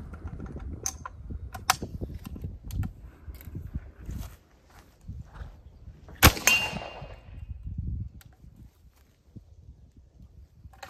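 A single sharp report from a .577 Snider rifle fired with smokeless and duplex loads rings out partway through, loud and close, with a brief decaying tail over quiet handling and shuffling noise.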